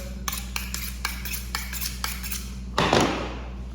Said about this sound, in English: So I'm gonna hone up my knife a little bit.